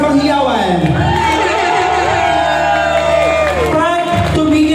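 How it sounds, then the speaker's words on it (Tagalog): Wedding guests clap and cheer for the newlyweds Marvin and Joanne, a loud, continuous crowd roar with whoops and shouts under strong wavering voices throughout. "parinig mo na po isang lakas na palakpakan may kasamang hiyawan"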